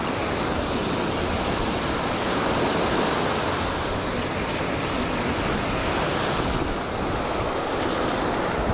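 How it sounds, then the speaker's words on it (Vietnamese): Big ocean waves break on a beach in a continuous loud roar of surf, with heavy wind buffeting the microphone and no voices. "Sóng to quá."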